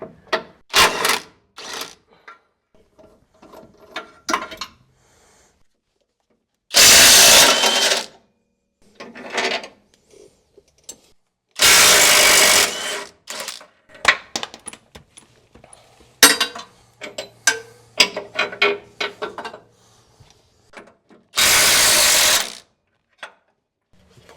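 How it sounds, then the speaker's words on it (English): Bolt being removed from a Chevy transmission mount during 6L90E transmission removal with a ratcheting tool, heard as close bursts of rapid mechanical ratcheting and clicking separated by quiet gaps and scattered metallic clinks. "Pull this last bolt out of here on the transmission mount."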